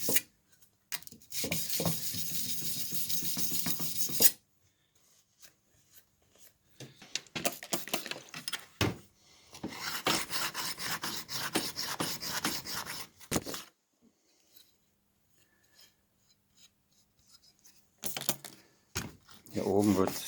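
A card scraper's burr is honed off by hand on a sharpening stone, giving close, dry rasping strokes in several long bursts separated by quiet pauses, with no talking over it.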